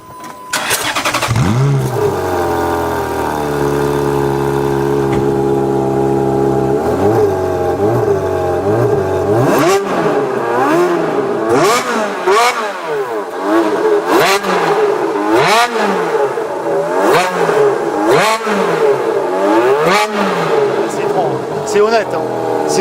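A Ferrari F430 Scuderia 16M cranks over and catches, then settles into a loud, close idle before a run of sharp, rising blips of the throttle that bark again and again.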